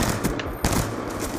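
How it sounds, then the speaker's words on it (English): Player gunfire in Call of Duty Black Ops 2 rattles off in rapid, loud automatic bursts with a brief pause mid-stream. "Bullets came out flying out of my gun"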